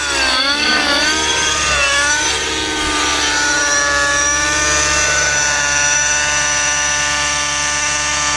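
A radio-controlled model helicopter, just repaired after a crash, flies with a steady high-pitched rotor and motor whine, loud and close. After a brief shift in pitch at the start it holds an even drone with no voices.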